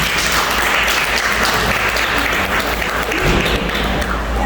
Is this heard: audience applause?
yes